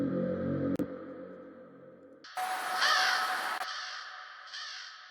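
A crow caws loudly a few times up close, a sound effect in a hybrid trap music track, harsh calls standing out against a quiet background.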